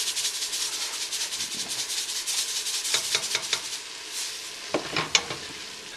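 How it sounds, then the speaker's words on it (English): Garlic and onions sizzle steadily as they saute in a pan, with sharp scraping and stirring clicks cutting in toward the end, close and moderately loud with no talk. "While these are sauteing, help bring out the flavor of the garlic and the onions"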